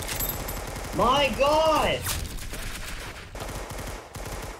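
Rapid bursts of gunfire from a Roblox gun game, including Tommy gun fire, crackle in dense volleys throughout, with players talking and exclaiming over the shots.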